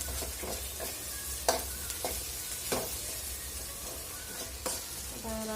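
Crushed Kolhapuri misal masala sautéing in a pan, a steady soft sizzle broken by several sharp spatula scrapes and taps against the metal, close and moderately quiet with no talking.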